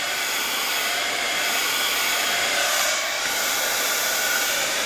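A hair dryer blows steadily on a painted journal page, drying the paint in a continuous loud, close whoosh that holds nearly unchanged for the full stretch, with no voices.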